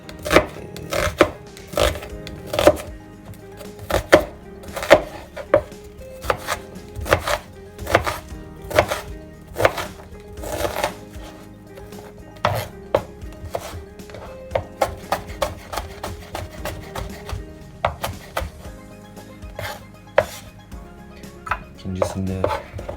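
Steady, rapid knife chopping of onions on a cutting board, crisp repeated strikes in an even rhythm, close up with no talking.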